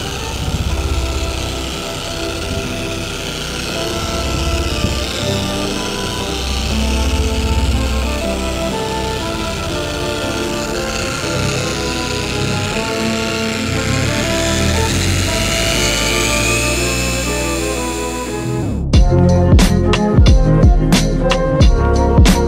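A machine polisher works paint on the hood of a black Cadillac Escalade, running as a steady close-up mechanical whir for about nineteen seconds before shifting to a harsher, choppier, louder pulsing at the end.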